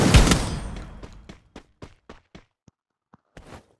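Gunfire in the video game Free Fire: one loud close burst, then a string of sharp separate shots at irregular gaps that grow fainter, with a final pair of quick cracks.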